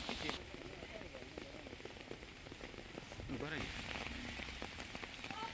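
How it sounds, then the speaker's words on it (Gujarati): Heavy monsoon rain falling in Tapi district, a steady close patter on surfaces with scattered louder drops and a brief rush partway through, while a faint voice talks underneath. "7-8 ઇંચ વરસાદ વરસી ચૂક્યો છે"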